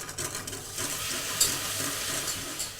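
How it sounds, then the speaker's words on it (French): Cold milk poured gradually onto a hot roux in a pan, giving a steady close hiss and liquid rush with faint stirring, alone without talk. "Je verse ensuite progressivement le lait froid sur le roux chaud."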